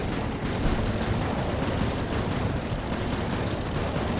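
Continuous rapid aircraft gunfire in the Air Wars 3 aerial combat video game, a dense, steady stream of shots at constant loudness with no talking.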